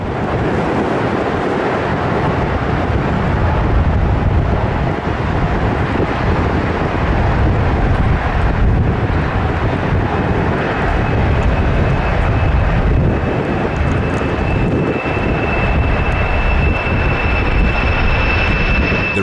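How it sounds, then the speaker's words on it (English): A Boeing 747 jet roars down the runway on takeoff, tearing up freshly laid sod beside it; a loud, steady broadband rumble with heavy wind buffeting persists throughout with no voices. "This Boeing 747 destroying the terrain next to the runway while taking off."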